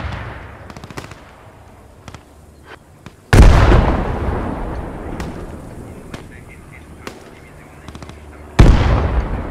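Artillery shells bursting in the World War II shooter Post Scriptum during the Arnhem Bridge battle, two heavy close blasts with long rumbling decay amid scattered distant gunfire cracks.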